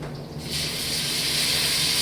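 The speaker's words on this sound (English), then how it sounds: "You want to hear that sizzle. That tells you that your pan is hot enough." A sudden loud hiss as food hits a hot pan, settling into a steady, close sizzle.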